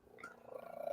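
A pet cat purrs softly and close, a faint low rhythmic rumble that swells slightly in the brief moment.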